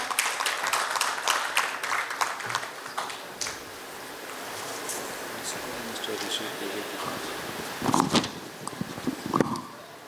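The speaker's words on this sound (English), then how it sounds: "Can we have a huge round of applause for him, everyone?" Applause from a crowd at the Global Forum for Quality Skills and Entrepreneurship 2023 in Mumbai, fading out after a few seconds into room murmur, with a few scattered claps and noises later on.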